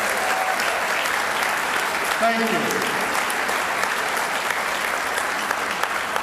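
Audience applause at a sports hall of fame dinner, a steady dense round of clapping filling the room for several seconds, with a brief spoken thanks heard over it.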